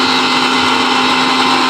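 A mixer grinder blends coriander chutney with onion, chili and curd, giving a loud, steady, high-pitched motor whine that runs without a break.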